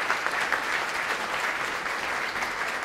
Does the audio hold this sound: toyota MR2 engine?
no